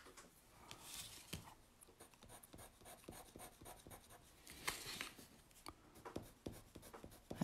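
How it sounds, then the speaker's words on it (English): A pen cross-hatches shading on a hand-lettered card, making rapid, scratchy strokes that repeat steadily and close up, quiet, with no one speaking. "I love cross-hatching."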